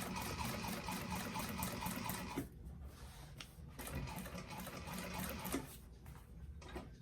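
A sewing machine topstitches a bag seam in long, steady whirring runs, broken by a couple of brief pauses before the stitching resumes, close and fairly loud.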